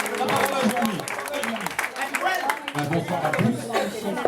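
Crowd applause at an end-of-season dinner mixed with chatter and voices talking over it, clapping continuing unevenly across the whole stretch.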